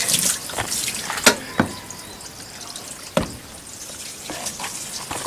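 Water from a pump pours into a barrel in a strong, steady rush, broken by a few sharp knocks and clicks; no one speaks.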